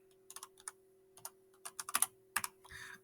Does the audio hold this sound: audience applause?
no